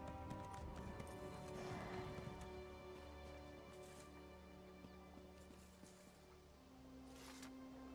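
Horse hooves thudding in a steady clip-clop while riding in The Elder Scrolls Online, faint and continuous beneath sustained game music.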